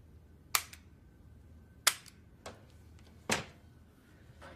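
Firearms being handled and checked, a pistol and a rifle: four sharp metallic clicks and clacks spaced about a second apart against a quiet background.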